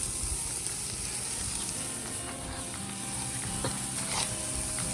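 Meat sizzling on a barbecue grill, a soft, steady crackling hiss heard close but faint, with occasional small pops and no talking.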